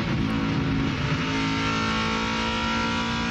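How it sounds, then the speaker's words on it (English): Racing trucks at full throttle into the corners at Pikes Peak during the 1999 NAPA 300k, a loud continuous engine roar with a steady droning pitch and no pauses. "They really drive these trucks down into the corners here at Pikes Peak"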